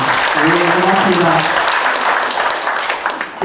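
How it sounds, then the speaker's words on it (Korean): Crowd applause fills a clan society gathering as a former association chairman is introduced, sustained dense clapping close and loud for the whole stretch, with a voice speaking over the start. "큰 박수 부탁드리겠습니다"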